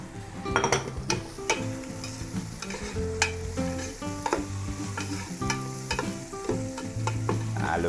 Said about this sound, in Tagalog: Luto-lutuin lang po natin yung sibuyas, bawang at luya.